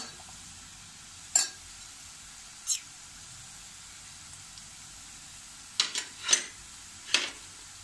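Cluster beans with Malvani masala, goda masala and turmeric being stirred in a pan, giving a few short scraping sweeps at scattered moments over a faint, quiet background with no voices.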